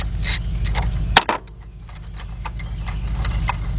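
A ratchet with a 16mm socket on a 12-inch extension loosens the spark plugs of a 2006 Mazda 6, giving rapid, close mechanical clicking with a brief louder clunk partway through.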